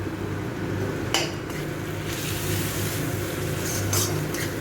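Cumin and coriander powder is stirred into masala in a pan for khichuri, with a steady low sizzle underneath and a few scraping, clinking strokes of a spoon against the metal.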